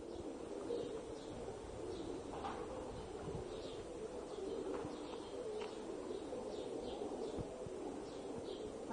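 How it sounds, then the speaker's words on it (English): Birds coo and chirp at the Ramesseum temple of Ramesses II in Egypt, their faint, scattered calls repeating over a steady low outdoor hum with no talking. "And the birds."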